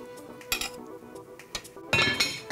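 A pot lid goes onto a cooking pot of pork spine in red dried-chile sauce with added vegetables, giving several close, sharp metallic clinks and clatters in bursts, the loudest cluster near the end.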